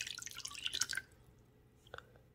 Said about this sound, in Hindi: और इसमें डालेंगे 1/3 कप लेमन जूस।